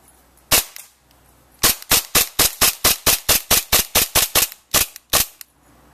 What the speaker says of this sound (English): this is a shooting test for the KJW m1911